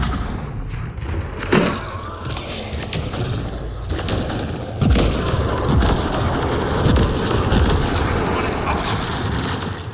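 Cannon fire and explosions in the video game Mass Effect: Andromeda come as repeated heavy booms and thuds over a dense, loud battle din, with sharp blasts recurring throughout.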